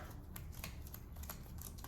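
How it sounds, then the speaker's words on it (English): A deck of action cards is shuffled during a tabletop board game, giving close, quiet papery riffles and rapid, irregular light clicks with no talking. "And we shuffle the action deck."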